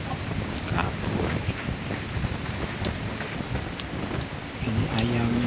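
Light drizzle falls outdoors over a garden where chickens shelter, heard as a soft continuous hiss mixed with wind buffeting the microphone, with a brief tonal sound near the end.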